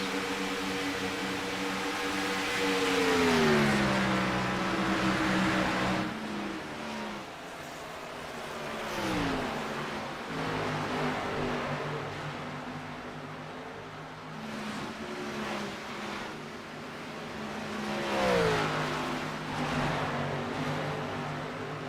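Gen 4 race cars circling Indianapolis, with overlapping engine drones rising and falling in pitch as cars pass, heard as a continuous distant roar that swells and fades repeatedly.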